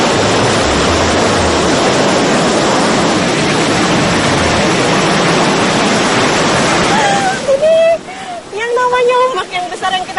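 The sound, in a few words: big ocean waves crashing on reef, south Java coast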